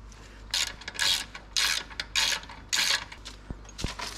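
A ratchet tightens a bolt on a 2021 Honda CRF250L during an exhaust install, six close bursts of rapid clicking pawl strokes in an uneven rhythm, followed by two sharp taps, with no talking.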